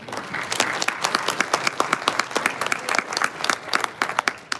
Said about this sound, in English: Please give a round of applause to our co-chairs.